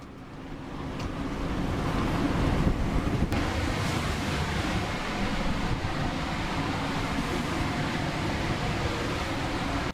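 Ocean waves surge against a ship's hull in heavy rain and strong wind, a continuous loud roar of surf and wind buffeting, no voices.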